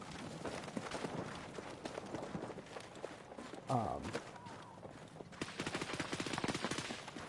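Gunfire in a Battlefield 6 team deathmatch, rapid bursts of shots crackling loudly in the mid-range, with a short lull and then a dense volley near the end, mixed with voices talking over the game.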